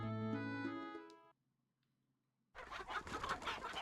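Chickens on a farm in the video game Breath of Fire IV, a sharp burst of noisy clucking and squawking that starts after a tonal musical note and a short silence.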